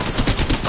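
Rapid automatic gunfire from the video game Apex Legends fills a brief moment, loud and continuous with a fast rattling rhythm.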